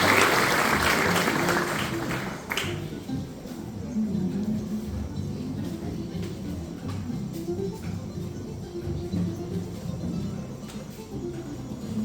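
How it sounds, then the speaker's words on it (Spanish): Applause for a graduating student at a school graduation ceremony: loud clapping from the audience that starts strong, drops after a couple of seconds, and carries on as quieter, steady clapping through the rest. "Fuerte los aplausos para Brian"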